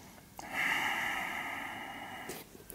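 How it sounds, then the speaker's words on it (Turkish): During a yin yoga pose, a slow, deep breath moves out through the nose in one long, steady, slightly raspy stream, close and soft in a quiet room. "Derin nefes alıp ver."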